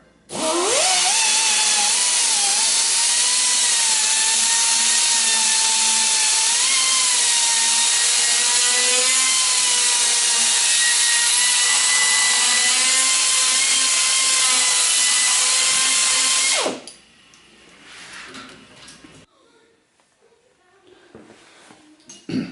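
A loud, continuous grinding whine of a drill boring out a metal Harley-Davidson handlebar runs for about seventeen seconds, then stops, leaving quiet scraping and handling noises.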